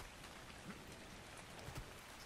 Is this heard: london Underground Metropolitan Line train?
no